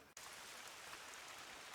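Pouring rain falls in the Hirschfelden hunting reserve of the hunting game Call of the Wild. A dense, even hiss of heavy rain starts after a brief gap and continues steadily, with no voices over it.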